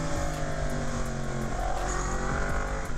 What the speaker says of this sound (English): Oh, I like the sound of this bike though, that sounds pretty sick.